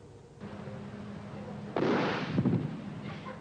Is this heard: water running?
no